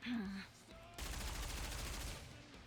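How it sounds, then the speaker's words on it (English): Rapid gunfire from the mobile game Nikke: Goddess of Victory, a dense burst of quick repeated shots rattling for nearly two seconds after a brief voice line, loud and sustained before tapering off. "Dorothy's gunfire lashes in from all directions, hitting her mark"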